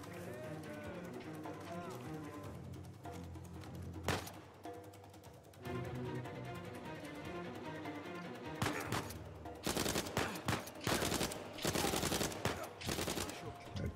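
Gunfire rattles through a firefight in the video game Uncharted 4: A Thief's End, with bursts of shots that turn into dense, loud volleys toward the end over ongoing background game sound.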